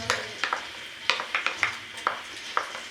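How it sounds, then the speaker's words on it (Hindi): Chopped onions hit hot oil in a pan and are stirred, giving a soft background sizzle broken by a series of sharp clinks and scrapes of a spoon against the pan. "ऑयल गर्म हो चुका है, तब हम इसमें प्याज डाल देते हैं।"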